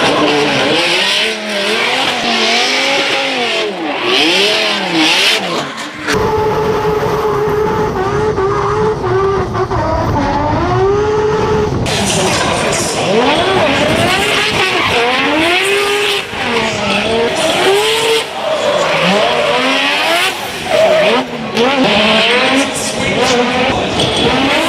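Drift cars sliding through the streets of Liverpool at the 2018 Red Bull Drift Shifters, loud engines screaming and bouncing off the limiter with tyre squeal, a sudden cut to heavier revving and smoke-filled howling, continuous and close over crowd noise.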